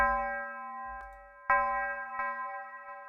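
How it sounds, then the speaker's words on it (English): A tubular bell from a drum kit sample, struck a few times, each strike ringing clear and dry with sustained metallic overtones and no room echo. "It's a tubular bell from my rookie season drum kit."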